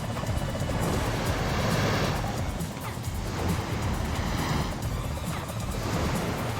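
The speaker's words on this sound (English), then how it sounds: "I think we're going to fight the helicopter now." Helicopter battle in the Kim Possible video game, a loud, steady whirring rotor roar with crashing impacts mixed in, continuous and close throughout.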